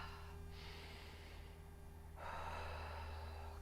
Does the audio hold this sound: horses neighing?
no